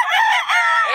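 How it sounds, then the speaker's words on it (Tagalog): Several chickens and roosters crow loudly and close by in a dense, overlapping chorus that carries on without pause through the whole second. "Ang daming manok dito mga idol."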